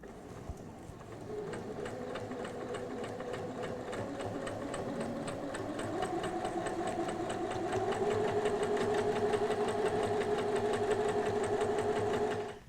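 A straight-stitch sewing machine runs steadily on a tote bag, a continuous close whirring that speeds up slightly partway through, with no voices.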